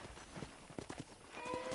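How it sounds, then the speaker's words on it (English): Horse hooves clip-clop in a Red Dead–style ranch video game on Xbox 360, a run of soft, uneven thuds mid-distance, with a faint musical tone rising near the end. "let's see if you can still ride a horse"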